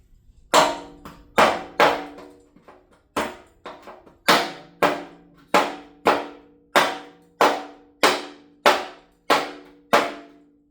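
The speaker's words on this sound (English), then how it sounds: "Use the hammer here to" Sharp metallic hammer strikes ring out one after another, about a dozen blows at a steady pace, each with a short decaying ring, hammering a car's rear fender during bodywork.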